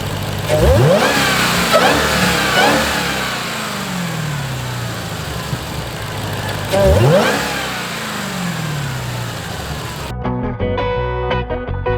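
A Dodge Challenger Hellcat Widebody engine revs hard twice, each roar sweeping up then settling back to a rumbling idle, before a brief burst of other sound at the end.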